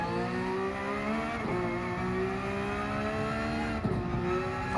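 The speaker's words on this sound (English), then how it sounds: "I'm liking the sound of those downshifts." Porsche 992 GT3 R race car in Gran Turismo 7 revving steadily up close, broken by two sharp downshift blips, with no voices over it.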